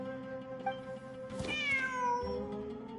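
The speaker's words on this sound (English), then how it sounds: "The cat!" A cat meows in the Genshin Impact video game, a rising and falling cry heard once near the middle over a steady game music bed.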